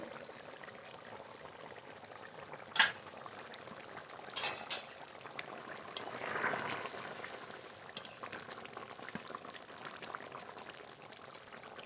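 Rita fish curry simmering in a pan with slit green chilies and mustard oil drizzled on top: a faint, steady bubbling and hiss throughout, with one brief clink near the start and no talk.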